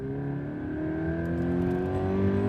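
Subaru BRZ's naturally aspirated engine revs steadily and loudly, a rising harmonic drone climbing in pitch over a couple of seconds, close up with no voices.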